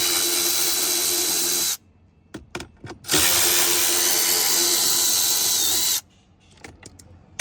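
A power tool whirs in long bursts while bolts are backed out of a Ford Explorer dash panel, two sustained close runs split by short clicking, ratcheting pauses.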